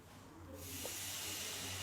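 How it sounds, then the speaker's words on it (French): Flambéing seared tartare in a frying pan in a restaurant kitchen: a steady hiss rises about halfway through and holds, a whooshing rush over a low background hum. "à même la poêle, on va pouvoir faire le flambage"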